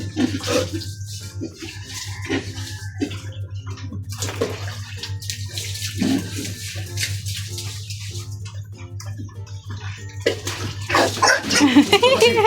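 Water is poured and splashed over something being washed, with irregular sloshing bursts over a steady low hum and occasional voices nearby.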